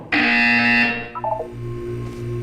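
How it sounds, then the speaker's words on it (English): In the video game Portal 2 a loud electronic buzzer blares for about a second and then fades, followed by a few faint beeps and a low pulsing hum. "When you hear the buzzer, look down at the floor."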